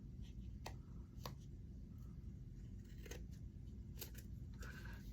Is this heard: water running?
no